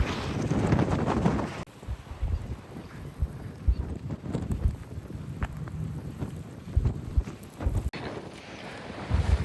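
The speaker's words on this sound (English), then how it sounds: "it's very windy out here" Strong wind buffets the microphone in loud, continuous gusts outdoors at a beach in Port Aransas, with rumbling low roar throughout and no clear voices.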